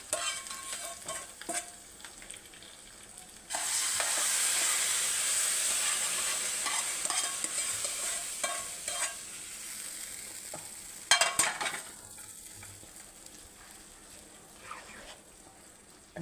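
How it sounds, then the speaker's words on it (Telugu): Rice and moong dal being stirred into a sizzling tempering in a pan for saada pongal: steady scraping and stirring over a loud frying hiss that swells partway through and eases toward the end, close and with no talk. "అంతా మిక్స్ చేసుకోవాలి."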